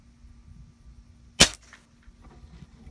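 One sharp, close crack from a .177 caliber air rifle firing at an adult fidget spinner, set against a quiet room hum with a faint rattle afterward.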